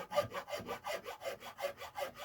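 Fine-toothed rasp filing wood with steady back-and-forth strokes, about eight even rasping passes in a regular rhythm, close and fairly quiet, with no voices.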